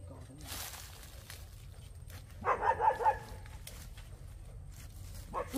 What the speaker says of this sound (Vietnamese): mấy con chó ở bên nhà hàng xóm người ta ấy kìa